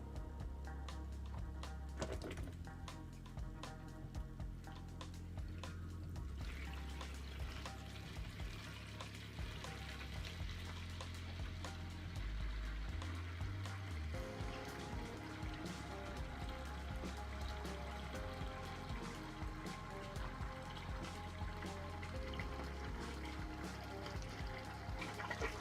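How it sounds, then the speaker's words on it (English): Water drains from a python tank through a homemade siphon tube, a steady close trickling and gurgling flow that runs continuously for about 25 seconds with a low rumble underneath and no talk. "So I've got this kind of ghetto tube here I made because the pythons are too big for this tank, so I'm just going to drain a little bit of water here."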